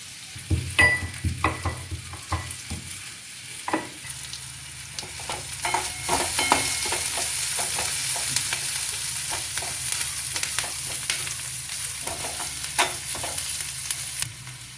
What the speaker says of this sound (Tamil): அந்த தட்டின பூண்டையும் நம்ம போட்டு வதக்கிக்கிட்டோம்